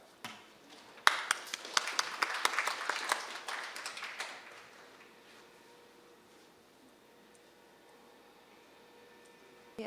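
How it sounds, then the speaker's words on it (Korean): Audience applause at a Korean insurance strategy forum swells after a sharp first clap, holds for about three seconds of brisk clapping, then fades into quiet room tone. "큰 박수로 모시도록 하겠습니다"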